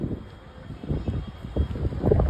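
Strong storm wind buffeting the microphone beside a highway near Rajkot, heavy low gusting rumble with rising and falling bursts, loud and continuous, no talk.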